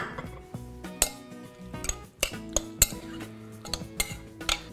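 Utensils clink and scrape rhythmically against a bowl while a grilled shrimp salad is tossed, a quick series of close metallic taps and knocks.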